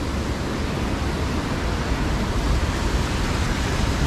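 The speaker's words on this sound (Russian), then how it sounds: "Ну, а здесь уже очищенная плотиной вода идет вниз." Water flows down below a river dam in Yalta, a continuous broad rushing roar, close and steady, with no voices.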